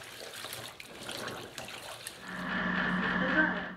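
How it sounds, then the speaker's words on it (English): Water runs steadily from a tap during hand-washing of clothes, starting partway through after quieter rustling and handling sounds, a fairly close, moderate continuous flow. "Now I am washing my clothes."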